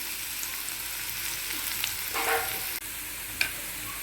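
Onions frying in hot oil give a steady, close sizzle that runs without a break, with a brief burst of stirring partway through.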